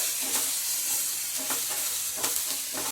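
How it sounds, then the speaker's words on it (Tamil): Onions and green chillies sautéing in a pan for a carrot and cabbage poriyal, with a steady close sizzle and bursts of stirring scrapes about once a second, and no one talking. "4 பச்சை மிளகாய் வெங்காயம் கொஞ்சம் நேரம் வதக்கிடுங்கம்மா"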